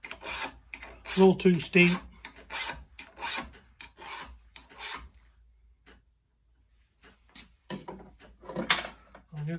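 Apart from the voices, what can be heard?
filing a sheep hoof trimmer blade with a file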